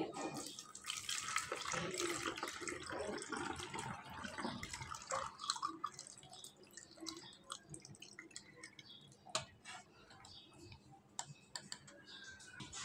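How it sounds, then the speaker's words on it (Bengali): Chilled lychee juice pours through a funnel into a bottle, a liquid gurgle and splash that is strongest early on, then thins to faint drips and small ticking knocks against the bottle. "আমি এই বোতলে জুসটা ঢেলে দেখিয়ে দিচ্ছি"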